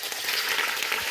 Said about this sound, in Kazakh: Осылай етті қуырамыз.